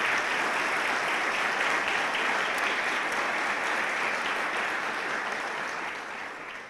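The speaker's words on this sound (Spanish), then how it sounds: "para quienes todos pido un aplauso de agradecimiento por estar aquí" A conference audience from the Rus community gives sustained, dense applause in thanks, even and loud throughout before tapering off at the end.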